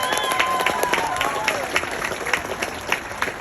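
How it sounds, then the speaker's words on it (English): A crowd at a county fair FFA market hog show claps steadily for the second-place exhibitor, a moderate round of applause with a voice speaking over it. "let's give that young man a nice big round of applause"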